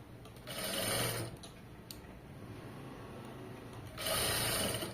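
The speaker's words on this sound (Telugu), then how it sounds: "స్టిచ్ చేసుకుంటూ వెళ్ళిపోవాలి ఇలాగ" A sewing machine stitches cloth in two bursts of fast whirring, with quieter handling and rubbing of fabric between the runs, all close up and with no talking.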